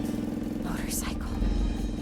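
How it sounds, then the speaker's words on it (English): A motorcycle engine roars and rises in pitch during an animated Zootopia 2 film scene, mixed loudly with voices and other action sounds over two seconds. "Motorcycle."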